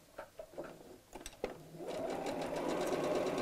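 Sewing machine stitching around the curve of a fabric bag, a few slow separate needle thumps at first, then settling into a steady fast whirring run that holds to the end.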